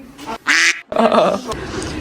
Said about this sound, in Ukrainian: Кача!